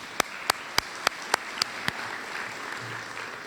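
A short burst of sparse, evenly paced clapping, about seven claps, at a city state-of-the-city address, fades into quiet room noise.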